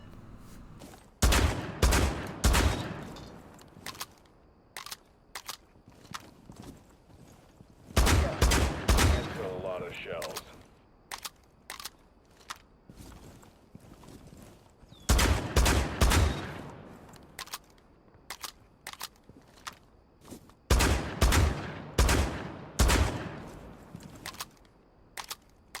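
Shotgun fire in Rainbow Six Siege, from the operator Melusi's loadout, comes in four clusters of loud, sharp blasts, each a quick run of shots separated by quieter gaps with faint background game sounds.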